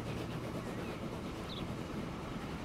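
A train running in the Transport Fever video game: a low, steady rumble of the rolling train, fairly faint and continuous, with a brief higher squeal partway through and no talking.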